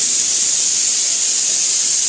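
A pressure cooker hisses steam steadily while barnyard millet (sama) khichdi cooks with bottle gourd, a continuous close, loud hiss that never pauses.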